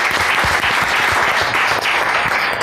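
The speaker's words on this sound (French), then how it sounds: "Donc, applaudissez pour Monsieur Kiré." An audience applauds Monsieur Kiré with a short, loud burst of dense, continuous clapping. Individual claps stand out close by within the crowd's steady wash of applause.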